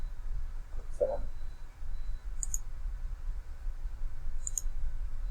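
Several sharp computer mouse clicks, spaced a second or so apart, crisp and close while someone navigates a car wiring diagram program, alone without talk.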